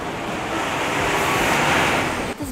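Surf breaks steadily at Punalu'u black sand beach on Hawaii's Big Island, a loud, continuous wash of waves with wind noise across the microphone, and no voices.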